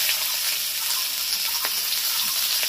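Chopped onions frying in a pan for a Bengali masala egg curry, a steady close hiss of sizzling oil running throughout with faint clicks and stirring sounds over it.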